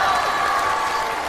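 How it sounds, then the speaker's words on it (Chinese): Brief burst of audience clapping and light cheering from a studio crowd on a comedy-music show, dense and steady throughout the short moment. "能允许我向大家要一个掌声，送给我们在座23位表演过的演员"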